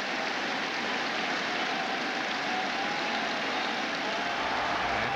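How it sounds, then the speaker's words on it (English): Baseball crowd at Fenway Park during a Red Sox–Yankees game, rising and cheering in a dense, steady roar that builds slightly toward the end. "The crowd starts to rise here in the eighth."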